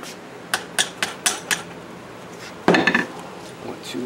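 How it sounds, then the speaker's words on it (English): A metal clamp is fitted and tightened onto the handle scales of a knife in a knife-making workshop, giving a few light taps and clicks followed by a sharper clatter of metal and wood contact, close by. "Then I will set one clamp at the top."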